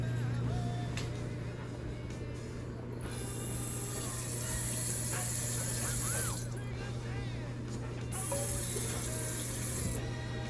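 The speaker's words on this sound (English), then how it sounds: "So I have a saucepan here, and I'm just gonna put 1 inch of water in the pan." Tap water runs steadily into a saucepan, about an inch being added for a double boiler, a continuous hiss with a low hum underneath.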